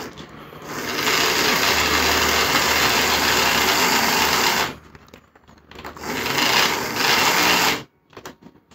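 A small, weak electric motor in an old model locomotive whirs and buzzes steadily while warming up, running in two loud bursts separated by a brief pause before cutting out, with no talking.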